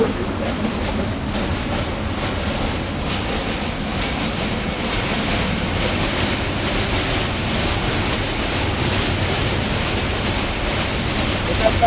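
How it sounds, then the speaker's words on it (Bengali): A train crosses a rail bridge on the Kushtia–Pabna border, giving a loud, continuous rumble with rolling wheel clatter. It holds steady for about twelve seconds without a break. "সম্ভবত কোনো ট্রেন আসছে এখন"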